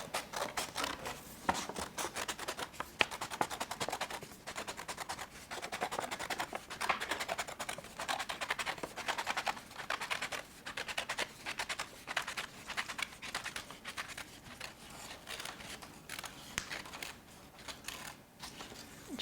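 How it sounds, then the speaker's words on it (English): Scissors snip steadily through a paper plate, cutting it into a spiral for a St. Patrick's Day craft, a close, dense run of crisp rapid cuts and rustles continuing throughout with no talking. "The next step is taking a paper plate and cutting it into a spiral."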